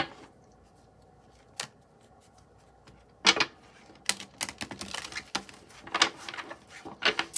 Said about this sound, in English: I saw a lot of major arcana when I was shuffling, and there goes one as I split the deck.